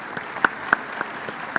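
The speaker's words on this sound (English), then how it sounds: "please a round of applause for them" A few scattered claps from a conference audience applauding speakers at a summit, sparse and irregular, rising only in isolated sharp hits over a low background.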